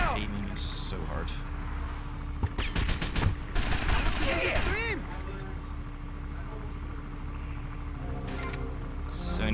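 Gunfire in the video game Grand Theft Auto: Vice City, with bursts of rapid shots clustered in the middle beneath an ongoing talking voice and game sounds.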